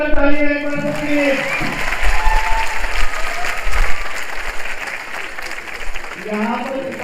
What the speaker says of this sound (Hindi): जोरदार तालियां एक बार सबके लिए।